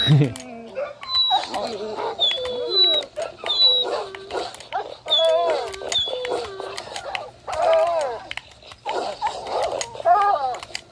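Many dogs in Minecraft Bedrock yip, bark and whimper in quick repeated bursts throughout, loud and close, with occasional talk mixed in.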